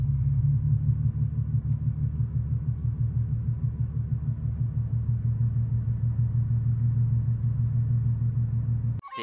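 Nissan 370Z NISMO idling with a low, steady rumble as the clutch is slowly let out in first gear, the engine note throbbing evenly and close for several seconds before cutting off.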